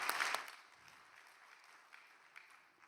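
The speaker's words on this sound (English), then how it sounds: "let us offer them a great round of applause and encouragements" Audience clapping at a Cheonshim Won gathering, a faint, distant patter of applause that starts a little stronger and thins out over a few seconds.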